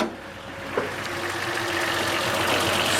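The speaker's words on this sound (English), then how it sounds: "Just like you would expect to good running little 6-cylinder to sound." The six-cylinder engine of a 1964 Chevy C10 shortbed pickup idles steadily and evenly, a continuous near rumble with no voices over it.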